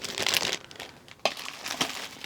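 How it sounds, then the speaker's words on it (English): Paper crinkling and rustling at close range while a book is case bound, with a long dense crumpling stretch followed by a few sharper crackling handling bursts, no voices. "Working with paper today, so there will be lots of rustling."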